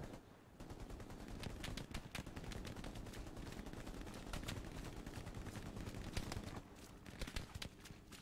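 Sustained machine gun fire in Hell Let Loose, a dense crackle of rapid shots passing overhead that runs almost continuously and fairly loud, easing slightly near the end with a few scattered bursts.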